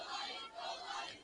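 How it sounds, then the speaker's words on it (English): The Shelby home crowd at a Western North Carolina high school football game roars as its team drives near the goal line, a brief swelling wash of distant cheering voices. "Now you can hear the Shelby crowd, and you can hear the momentum."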